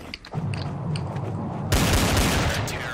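Counter-Strike: Source gunfire crackles in a rapid burst of shots, with sharp mechanical clicks of weapon handling first and then a loud, dense volley that fills the rest of the moment.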